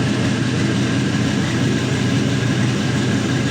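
GM 5.3L LS truck engine idling on a test stand, a loud, close and steady rumbling drone that holds level throughout with no voices.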